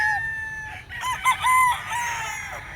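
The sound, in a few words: rooster crowing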